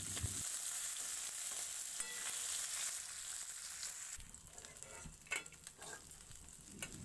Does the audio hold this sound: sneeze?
no